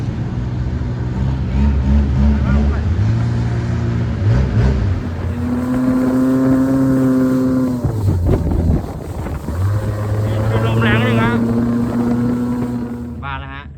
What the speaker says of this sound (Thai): มาครับเรือที่จะมารับเรานะ